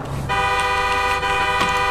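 A car horn in GTA V blares in a long, steady honk after a short burst of engine and street noise, loud and close, with no talk over it.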